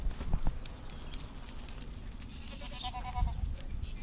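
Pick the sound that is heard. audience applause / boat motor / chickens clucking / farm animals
farm animals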